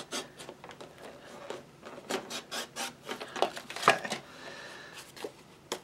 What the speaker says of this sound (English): And then we're going to take and trim off